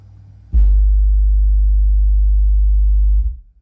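A steady 50-cycle test tone played through passive radiators in a Honda CRX, a loud, deep, sustained hum lasting about three seconds before cutting off, with no talk over it.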